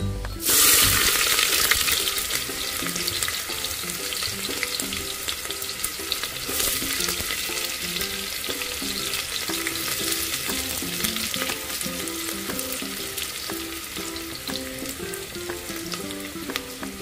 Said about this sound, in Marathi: मी आता कांदा टाकते फोडणीला।